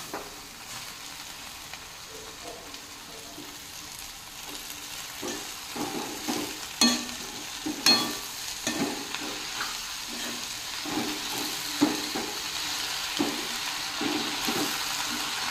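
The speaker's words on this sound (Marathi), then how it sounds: "आता यामध्ये मी ही धुवून ठेवलेली माठेची भाजी घालत आहे।" Amaranth greens stir-fried with onion, chilli and salt in a pan: soft sizzling builds into repeated scraping and tossing strokes with brief crackling bursts, close and moderately loud, with no one talking.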